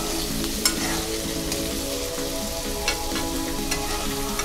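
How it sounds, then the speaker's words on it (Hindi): Cut potatoes being stirred in a hot pan for sabudana khichdi, giving a steady close sizzle with light scraping strokes and occasional sharper clinks of the spoon, with no talking. "हमने जो आलू को काट कर धो लिया था वो अब हम इसमें डाल देंगे। एक बार हम इसको मिक्स कर लेते हैं।"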